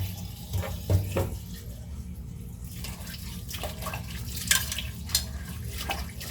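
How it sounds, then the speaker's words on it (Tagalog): Bamboo shoots are washed under a running tap into a sink, with moderate splashing, trickling water and occasional louder splashes and clatters from handling, with no talking. "Hugasan natin dito mga buddy bago natin siya pakuluan"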